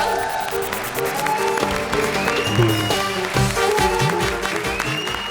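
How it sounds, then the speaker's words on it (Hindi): Loud, sustained applause from a large studio audience at a televised comedy show, a dense wash of clapping with music and cheering mixed in. "जोरदार तालियां।"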